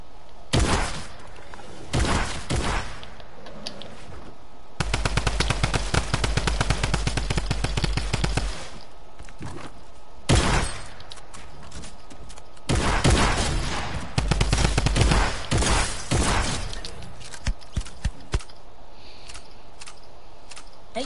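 Video game gunfire with a shotgun, bursts of loud rapid shots in dense volleys separated by single heavy blasts and quieter gaps, close and punchy, no talking.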